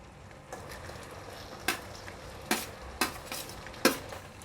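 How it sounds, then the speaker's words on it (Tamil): A spoon stirs mushroom masala gravy in a pan, several sharp metallic clinks and scrapes against the pan rising over a faint low simmer, close and quiet, with no voices. "சேர்த்துட்டு நல்லா கலக்கி விட்டுறலாம்"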